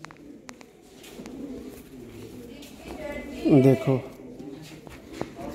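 Pigeons for sale at a breeder's loft coo in a brief, fairly loud burst partway through, over steady background murmur with someone talking.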